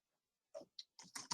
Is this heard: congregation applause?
no